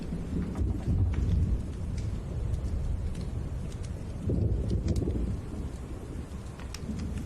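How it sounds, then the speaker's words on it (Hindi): Thunder rumbles in deep, rolling swells through steady rain, with two heavier surges partway through and no voices over the storm. "बिजली कड़कने की आवाज है।"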